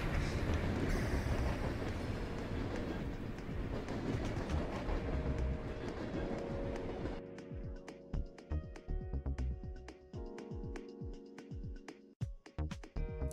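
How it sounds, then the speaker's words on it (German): A train passes by in a video game, first as a loud, continuous rumbling roar, then breaking into rhythmic clattering clicks of wheels on rail joints as it moves on. "kommt direkt der Zug"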